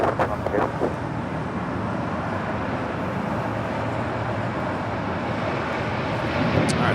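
Japan Air 061 heavy jet on its takeoff roll from runway 25 right at LAX, a broad continuous engine roar heard from a distance, steady throughout with faint voices underneath.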